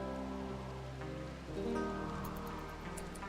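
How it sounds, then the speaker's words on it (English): Rain in the video game Rimworld, a steady soft patter of drops with a gentle wash underneath, heard alone for a few seconds. "So it's raining."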